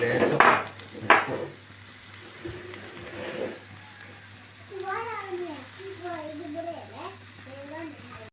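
Chopped taro stems go into a pan for a Kerala thoran and are stirred, with a few sharp clatters and scrapes of a utensil against metal at the start, then softer cooking sounds while someone talks nearby.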